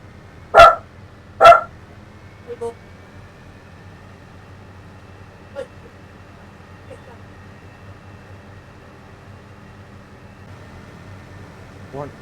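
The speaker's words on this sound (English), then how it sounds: "my dog is barking." A dog barks twice in quick succession near the start, loud and close, followed by a few faint yips, with quiet room noise and no talking afterward.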